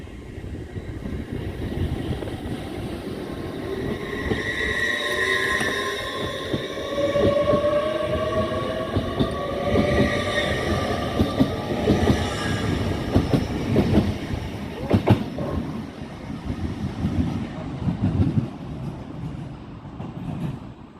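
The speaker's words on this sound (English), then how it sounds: "And now arriving on platform 8 is a northern service to Scarborough via Hull." A Northern train service at Doncaster station, heard up close on the platform: a steady rumble with rhythmic wheel clatter, some squealing tones and a few sharp clunks, and no voices.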